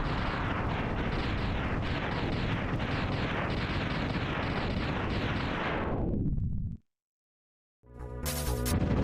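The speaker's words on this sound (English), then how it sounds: "The quietest explosion." Explosion in a Mega Man X randomizer game: a long, loud rumbling burst of crackling booms that suddenly cuts to silence before game sounds resume, with no talk.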